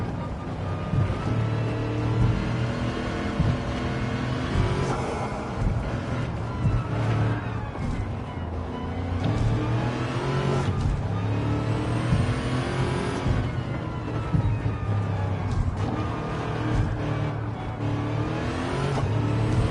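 A racing car engine in the video game Gran Turismo 7, fitted with a swapped engine, revs and drones continuously, pitch climbing and falling with gear shifts, loud and steady throughout.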